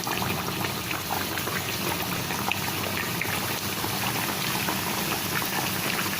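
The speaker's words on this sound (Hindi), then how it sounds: "बिल्कुल धीमी धीमी आंच पे सेकेंगे क्रिस्पी होने तक, जिससे ये अंदर तक सिक जाएं।" Kachori dough pastries fry slowly in hot oil in a kadai over a low flame. A dense, steady bubbling hiss holds even and unbroken for the whole stretch, with no talking.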